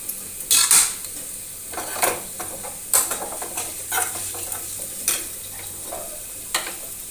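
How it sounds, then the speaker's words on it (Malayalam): Utensils clatter and scrape as mustard seeds fry in a pan for a ginger curry at home, with intermittent metallic clinks over a soft, steady sizzle. "അപ്പം നമ്മുടെ ഇഞ്ചിക്കറിക്കകത്തോട്ട് ഞാൻ കടു വറുത്തത്"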